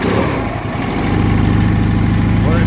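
A 1963 AJS Model 31CSR 650cc motorcycle engine started cold with slightly retarded ignition, running loud and close with a steady, throbbing idle that firms up after a rough first moment.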